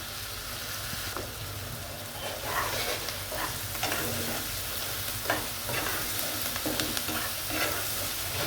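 Onions fry steadily in a pan with a dense, continuous close sizzle. Occasional scraping stirs punctuate it over several seconds, and no one talks.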